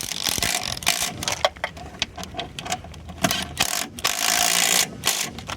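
A hand ratchet tightens engine mount bolts on a 1991 Toyota Camry, producing rapid close clicking pawl strokes in repeated bursts with short pauses between swings.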